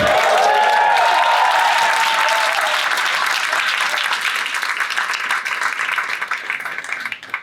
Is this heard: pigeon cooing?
no